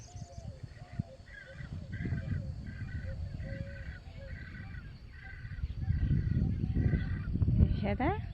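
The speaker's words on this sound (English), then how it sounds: "the birds and crickets and insects and peacocks are on a riot" Birds, crickets, insects and peacocks in an outdoor nature setting make a faint chorus of repeated chirps and calls over a soft low rumble, with a few sharper calls near the end.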